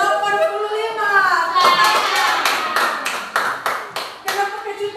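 A group of schoolchildren in a classroom clapping, several sharp rhythmic bursts that break in under ongoing talk and speech-like sounds, growing more distinct toward the end.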